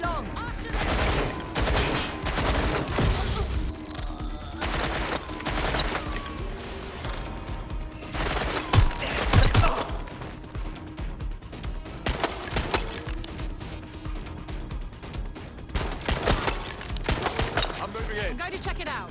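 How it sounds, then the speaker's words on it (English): Video-game gunfire in Watch Dogs: Legion, dense bursts of automatic fire and volleys crackling through most of the stretch, loud and close, with crashes and shouted voices mixed in. "Gunfire!"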